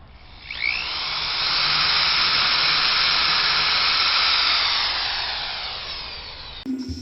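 A power drill bores a starter hole into a wooden swing set beam, a sustained high whine that ramps up, holds steadily for several seconds, then winds down, close and alone.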